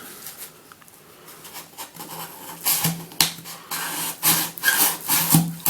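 A SOG spring-assisted rainbow knife blade carves wood in close, rough scraping strokes that come as a quick irregular series of rasping rubs, growing louder and more frequent partway through, with no talking.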